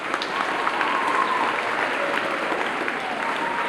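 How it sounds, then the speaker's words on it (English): An audience at a grade 8 school awards ceremony claps in a steady, dense round of applause filling the room, with no talking over it. "everybody in here needs to give a round of applause to Mrs."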